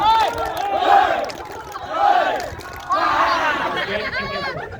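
A group at an outdoor fun-games outing at a villa in Lembang shouts the family clap chant together, loud voices rising in three energetic bursts with crowd chatter between them.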